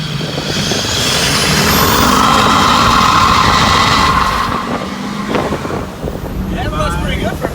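Big truck with a slight exhaust leak doing a burnout, engine roaring loud and sustained with a rising whine, heavy wind rush, then easing off near the end.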